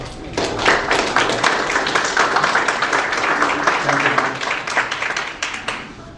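Audience applause welcoming the host at a Korean War veterans memorial event held by the American Korean Friendship Society, dense steady clapping throughout, loud and sustained.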